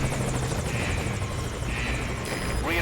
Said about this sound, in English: I'll have the chopper wait in the air.